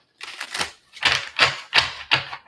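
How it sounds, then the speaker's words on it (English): A deck of oracle cards is shuffled by hand in five quick, crisp riffling bursts separated by short pauses, close and fairly loud. "Let's shuffle it up."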